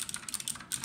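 Rapid clicky keystrokes from an OMOTON MK201 tenkeyless mechanical keyboard with Outemu Blue switches, a steady burst of close, crisp typing with no talking.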